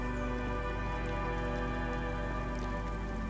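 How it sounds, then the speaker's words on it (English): Steady rain falls in the video game Disco Elysium, a dense continuous patter with a constant hiss and faint droplet ticks, alone with no voices. "God, it is raining now,"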